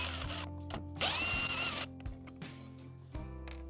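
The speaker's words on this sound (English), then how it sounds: "pull the screws" A power driver backs screws out of an RV door handle, close and fairly quiet, with a few short whirring bursts and ratcheting clicks separated by handling noises.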